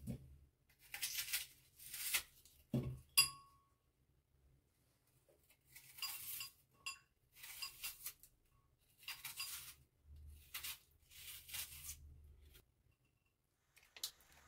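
A large onion being cut into thin strips for couscous sauce, a series of quiet knife strokes against a board in irregular bursts with short pauses between them.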